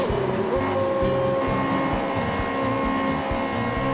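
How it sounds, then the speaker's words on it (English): Car engine in the Wreckfest racing game screaming at maximum revs, a sustained high, buzzing drone with steady harmonics, loud and continuous over the whole few seconds alongside rough game noise. "It's like he's reaching max revs,"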